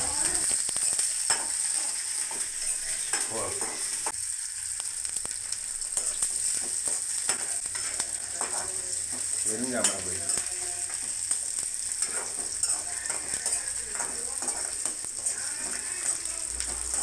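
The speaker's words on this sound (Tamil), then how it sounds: "வெங்காயம் போட்டு தாளிச்சாச்சு, தக்காளி பழமும் போட்டிருக்காங்க." Onions and tomatoes fry in oil in a pan for a kohlrabi curry, giving a constant close sizzle with occasional stirring clicks and scrapes.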